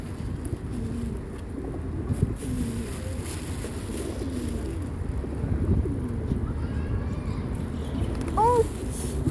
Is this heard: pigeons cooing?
yes